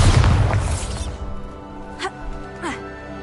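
A blasting spell explodes in Hogwarts Legacy with a loud booming crash that decays within about a second, then faint rattling debris and brief vocal grunts.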